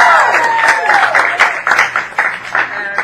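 Applause from the audience at an improvised game show, broken up by distinct claps over a steady tonal voice-like layer and crowd murmur, loud and close for about three seconds.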